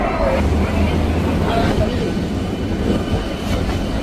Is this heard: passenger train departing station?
yes